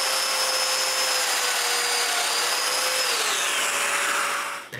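A power tool cuts domino mortises into a wooden cabinet side, giving a steady high whine with a constant tone that dips slightly near the end before stopping abruptly.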